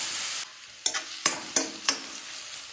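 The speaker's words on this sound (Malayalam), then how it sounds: "ഇനി ഇതാ നമ്മൾ ഗ്രേറ്റ് ചെയ്ത് വെച്ച ക്യാരറ്റ് ഇട്ട് കൊടുക്കുക." A spatula stirs grated carrot through hot oil in a pan, giving four or five distinct scraping strokes over a soft, steady sizzle, close and fairly loud.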